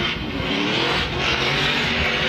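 A BMW drift car on field suspension and Nitto tires revs hard through a big flick during Formula Drift qualifying in New Jersey, its engine a loud, continuous roar with no pause across the whole stretch.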